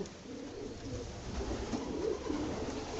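Racing pigeons coo softly in a pigeon loft, a faint, steady murmur of calls over low background noise, with no voices.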